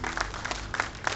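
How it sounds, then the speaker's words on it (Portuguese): Church congregation clapping during a worship service, a steady patter of hands with a few sharper individual claps, moderately close and fairly full, with no speech over it. "E as palmas louvam ao Senhor."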